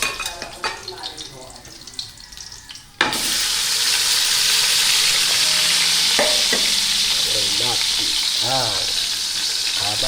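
Chopped onions sizzle and fry loudly in hot oil in a pan while cooking a mussel dish, a steady crackling hiss that bursts in abruptly and continues alongside occasional spoon scrapes and stirring clinks.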